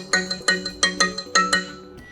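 Ringtone 3 on a Mercedes E Class AMG: a rhythmic pattern of bright, bell-like electronic notes, about eight repeated pulses, clear and fairly loud, played alone.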